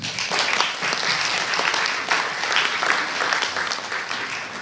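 Steady, loud applause from a conference audience in Angers, dense clapping filling the whole stretch without a break.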